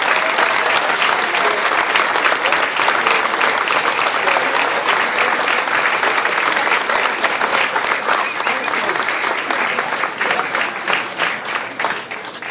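A rally audience keeps applauding at a Senate endorsement event, a dense, loud wash of clapping that holds steady before thinning slightly toward the end.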